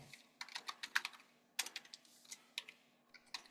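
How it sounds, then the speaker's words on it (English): Rapid, uneven keystrokes on a new computer keyboard, close and crisp, coming in two bursts with a short pause between them and no talking. "Click, clack, click, clack. Click, clack, click, clack."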